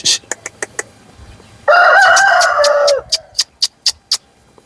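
A yellow Aseel rooster gives one loud, close crow of over a second, with sharp rhythmic clicks and taps before and after it.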